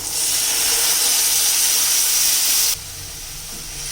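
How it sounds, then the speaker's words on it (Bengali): Boiled dried-fish water is poured into a hot pan of spices for a dried-fish chutney. A loud, steady steamy hiss and sizzle fills the first few seconds, then drops abruptly to a quieter simmering hiss. "এক্ষণে আমি দিয়ে দেব সেই সিদ্ধ করা শীতল জল।"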